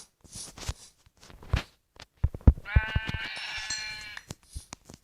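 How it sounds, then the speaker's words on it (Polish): A single wavering Minecraft sheep bleat rings out clearly between scattered footsteps and light thuds. "O, fajnie owca."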